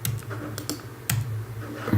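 Computer keyboard keys clack in a quick, uneven patter of crisp taps, close and fairly loud, heard alone.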